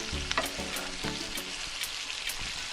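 Seasoning sautéing in a pan for Jamaican-style tinned mackerel, a continuous close sizzle broken by rhythmic scraping and stirring strokes at regular intervals.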